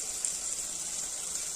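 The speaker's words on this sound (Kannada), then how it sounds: "ನೀರು ಹಾಕ್ತಾ ಇದ್ದೀನಿ." Water pours steadily from a glass into a pan of seasoned rice, a short, even gushing stream heard alone.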